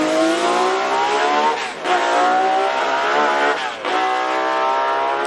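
Ligier Matra V12 Formula 1 race car screaming past at high revs, a loud sustained harmonic wail with two brief dips near 1.8 and 3.8 seconds where the pitch drops and climbs again through gear changes.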